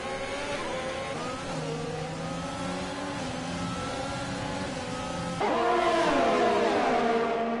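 Formula 1 cars racing in the F1 2020 video game, engines whining and rising in pitch as they accelerate through gears, one car roaring louder and closer near the end.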